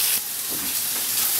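Salted stock simmering and bubbling in a paella pan, with a steady soft hiss and faint gurgles close by, no voices.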